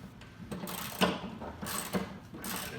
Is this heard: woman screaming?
no